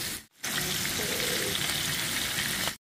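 Mushrooms fry in a pan until browned, giving a dense, steady sizzle close by. A short break comes early, then the crackling hiss carries on unbroken until it cuts off.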